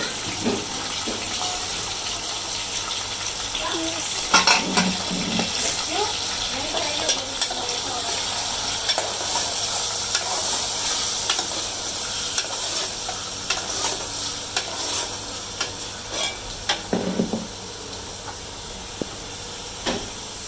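Oil heating and starting to fry in a pan, a broad steady hiss with occasional clinks and stirring scrapes, fairly close, and a faint voice now and then in the background.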